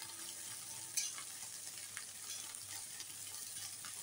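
Egg bhurji fries quietly in a pan, a soft continuous sizzle with a few small pops and faint stirring touches, low and even throughout.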